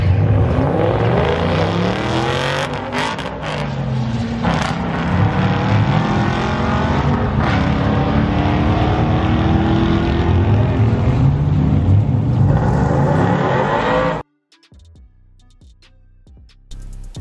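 An Infiniti Q50 Red Sport accelerates hard at a race track, its engine roaring loud and close with rising, revving pitch for about fourteen seconds before cutting off abruptly into near silence.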